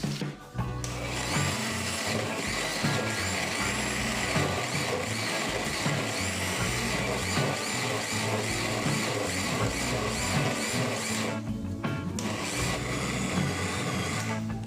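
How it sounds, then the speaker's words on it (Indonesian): An electric blender grinds a spice paste of ginger and other seasonings with a little water, a loud continuous motor whir with steady churning that runs the whole time, briefly dipping near the start and again near the end. "Kita akan blender semua bumbunya supaya lebih halus, dan untuk memblender saya tambahkan sedikit air"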